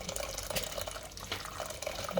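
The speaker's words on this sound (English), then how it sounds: "then you go ahead and add hot water from the kettle" Hot water from a kettle pours into a meal mixture, a continuous splashing, gurgling liquid sound with small bubbling spikes, moderately close and fairly quiet.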